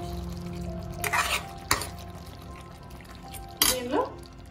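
Mutton curry with drumsticks being stirred in a pan after a tablespoon of garam masala goes in, with a few distinct scraping strokes over a low background hum.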